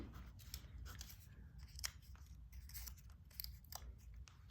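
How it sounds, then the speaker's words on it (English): Scissors snip through paper during a children's craft lesson on painting trees, a run of close, crisp cuts in an irregular rhythm over a low background hum. "And I just start cutting."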